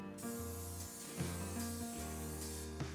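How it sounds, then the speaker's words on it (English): A continuous hissing spray from an aerosol can of non-stick cooking spray into an 11 by 7 baking pan, close up, lasting a few seconds with slight pulses, over a low background hum. "spray it with non-stick cooking spray"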